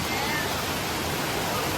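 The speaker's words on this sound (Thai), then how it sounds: "ไหนเทน้ำ" Water is poured out in a continuous, dense rushing splash that stays loud and even throughout. The water is green stream water drawn from a village water source.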